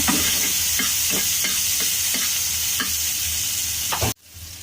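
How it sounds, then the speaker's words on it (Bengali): Chopped onions sizzle steadily in leftover oil in a hot pan, with a continuous loud hiss and regular stirring scrapes, until the sound cuts off abruptly near the end. "আর এখন এখানে দিয়ে দিচ্ছি পেঁয়াজ"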